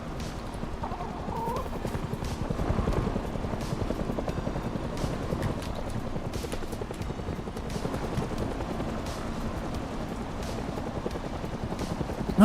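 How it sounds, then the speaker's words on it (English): A helicopter in a video game gives a fast, steady rotor chop with a rumbling drone, loud and continuous throughout the stretch. "Can't let this helicopter see me, it'll kill me."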